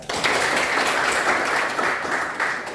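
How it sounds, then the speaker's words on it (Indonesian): Students in a classroom applaud with a brief burst of steady, close clapping lasting a couple of seconds. "berikan aplaus"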